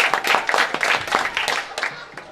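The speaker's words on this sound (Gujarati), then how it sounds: "તમને સૌને એક વખત તાળીઓથી વધાવી" Students clap at a school kit distribution programme in Karaj village, Bhilad: a dense, steady patter of many hands, fairly close, fading slightly toward the end, with no voices over it.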